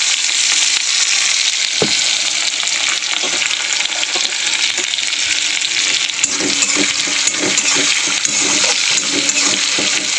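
Sliced onion and Bengali five-spice crackle in hot oil during a vegetable curry, a loud continuous sizzle with scraping stirs toward the end and no voices.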